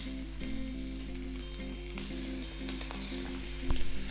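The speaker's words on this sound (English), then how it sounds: "You should be able to hear them sear like that straight away." Scallops sear in oil in a hot pan, a close, steady sizzle and crackle with no talking, swelling briefly near the end.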